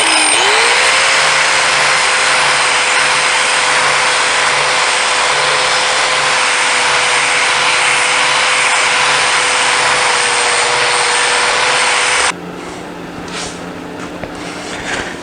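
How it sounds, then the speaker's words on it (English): Handheld grinding wheel power tool cutting material from a 1980s TV stand, a loud continuous high whine that holds steady for about twelve seconds, then drops off abruptly as the tool winds down. "the best tool is to use one of these grinding wheels, and it's real fast and easy."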